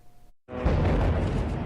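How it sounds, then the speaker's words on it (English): A single loud blast erupts in a Gaza neighborhood after a brief silence, its dense roaring rumble sustained to the end with no voices. "A deadly explosion rocking a Gaza neighborhood not far from homes where children are playing."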